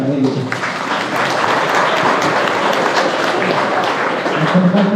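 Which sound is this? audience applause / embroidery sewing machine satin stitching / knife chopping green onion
audience applause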